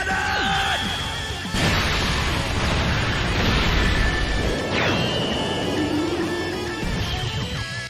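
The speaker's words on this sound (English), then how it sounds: "So with the special beam cannon, we do finish it off." Special Beam Cannon attack effect from the Dokkan Battle video game: a loud, sustained crashing energy blast with sharp swooshes and impacts, continuous for several seconds with no pauses.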